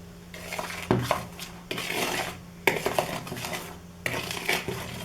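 Powder is stirred into dry ingredients in a bowl, heard as repeated bursts of close utensil scraping and clinking against the bowl, separated by brief pauses.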